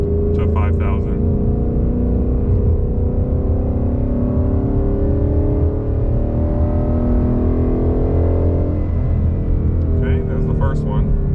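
A 2020 Mustang GT running a Lund 91-octane tune accelerates hard in third gear, its engine note climbing steadily in pitch as it pulls through the revs, with brief voices near the start and end.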